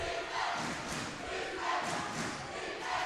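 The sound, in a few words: crowd cheering at women's basketball game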